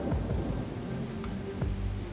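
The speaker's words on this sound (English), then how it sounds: "it was pouring down rain" Heavy rain pours down steadily during a severe tornado-spawning storm, a dense, continuous roar of drops with faint low rumbles underneath.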